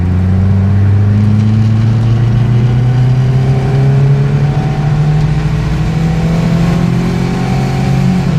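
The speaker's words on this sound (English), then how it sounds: "Okay, full throttle, here we go." A 1987 Volkswagen Jetta engine pulls hard at full throttle on a road, its loud, steady drone rising in pitch through the gears without a break, heard alone from inside the car.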